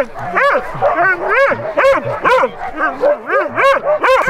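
Several dogs at a snowy motorsport event bark and yip excitedly in rapid, overlapping bursts, loud and close, with a few whimpers between the barks.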